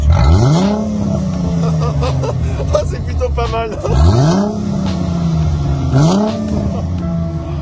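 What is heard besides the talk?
Chrysler Crossfire 3.2L V6 engine revving without valves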